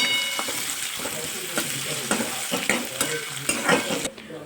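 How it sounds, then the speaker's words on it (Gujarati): Onion sautéing in a pan until golden brown, a close sizzle broken by repeated scraping strokes of a spatula in an uneven rhythm, ending abruptly, with no voices. "હવે એને હું સાતડી લઈશ ગોલ્ડન બ્રાઉન સુધી એને હું સાતડી લઈશ"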